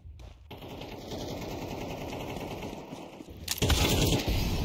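Rapid automatic gunfire in Counter-Strike 2, a dense sustained burst of loud shots close by that swells louder near the end, with no talking.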